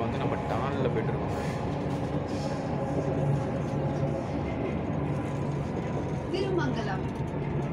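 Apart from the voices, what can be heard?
Chennai Metro train running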